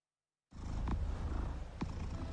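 After a moment of silence, a cat purrs close up: a steady low rumbling drone that continues to the end, with a couple of faint higher chirps above it.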